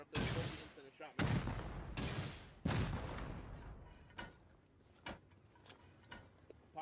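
Rockets launched in Rust Console Edition, heard as several loud, sharp blasts with long rumbling tails, followed by fainter distant bangs and thuds, with players talking over the gunfire.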